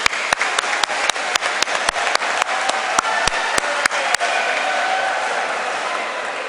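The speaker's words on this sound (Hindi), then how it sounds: "एक बार जोर से हम स्वामी जी के लिए तालियां बजाएंगे।" A seminar audience bursts into loud, close applause, with sharp individual claps standing out over a dense wash of hands that keeps going for several seconds before settling into a steady hiss.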